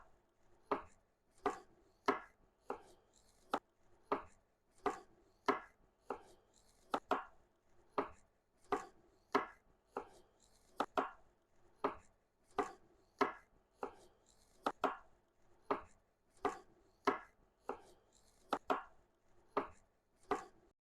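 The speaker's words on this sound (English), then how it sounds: "cut these up into nice fine pieces" Knife chopping food into fine pieces on a board, a run of crisp, evenly spaced cuts close up with no talking.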